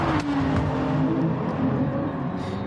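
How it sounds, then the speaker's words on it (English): Race car engines, several V6s and a V12, from Gran Turismo Sport at Spa-Francorchamps drone together in a loud, continuous wail with shifting pitch as the cars run close by. "Get a massive cacophony of engine noises through there. You've got, I think, a few V6s and a V12 in there."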